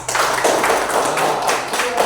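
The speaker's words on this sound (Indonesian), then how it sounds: "Iya, bagus, tepuk tangan." A classroom of students claps together, a steady close patter of many hands lasting a couple of seconds.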